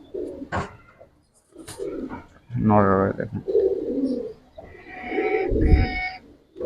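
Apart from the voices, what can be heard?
Giribaz pigeons cooing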